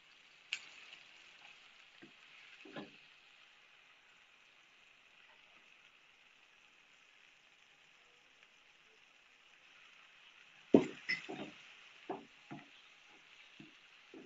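Onions, tomatoes and dried red chillies fry with a steady soft sizzle in a pan, with a spoon scraping and knocking in scattered strokes, loudest near the end. Faint talk is heard underneath.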